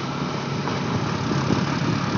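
Steady engine drone from a Honda Shine 125cc motorcycle carrying three riders up a steep hill road, a continuous close rumble holding even throughout without speech.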